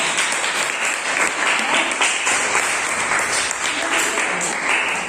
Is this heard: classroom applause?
yes